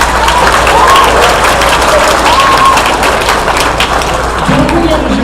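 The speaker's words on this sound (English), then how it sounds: "Give yourself a clap." A children's audience at a community safety designation ceremony in Wellington County applauds, a dense steady wash of clapping across the whole stretch with some voices mixed in.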